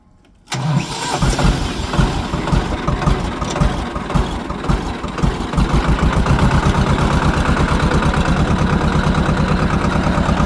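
A tractor engine, just washed clean, catches at once and then runs with a steady, loud mechanical chug while the tractor is turned to be parked under a shed. There is no talking.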